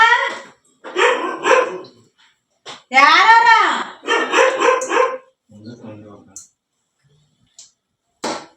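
A dog barks a few times close by, mixed in with people talking in short bursts separated by pauses.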